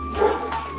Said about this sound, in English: Walking a dog. Somebody walking a dog. Dog losing her shit.